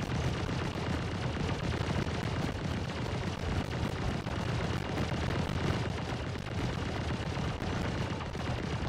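A Star Citizen sentry gun fires in a dense, continuous barrage, loud and unbroken for several seconds with no gaps or talking.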